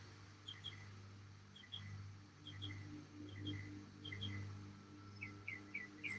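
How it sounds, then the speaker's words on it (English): A small bird sings repeated short chirping phrases at a moderate distance, faint and recurring every second or so over a quiet low hum. "Could sit here all day listening to that bird."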